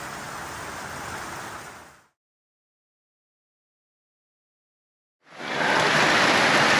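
Heavy rain pours down in Tasmania at a campsite shelter where a KLR650 motorbike is parked. A loud, dense wash of hiss is heard, cutting out entirely for a few seconds before returning just as strong.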